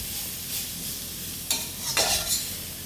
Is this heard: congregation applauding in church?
no